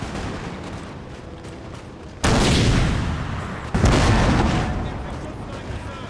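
Massed infantry musket volleys from Napoleon: Total War, two loud crashing bursts in quick succession, each rolling into a long echoing rumble over a steady battlefield din.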